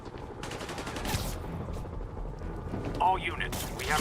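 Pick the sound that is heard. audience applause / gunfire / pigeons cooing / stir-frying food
gunfire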